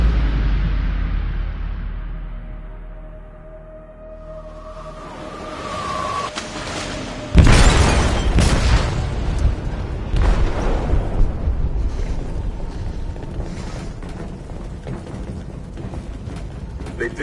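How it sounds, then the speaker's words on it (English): A heavy blast tears through a ship's hold in Detroit: Become Human, a sudden deep boom after a quieter rumbling lead-in, followed by sustained roaring debris and rumble that stays loud to the end. "They detonated an explosive in the hold. The ship is sinking, sir."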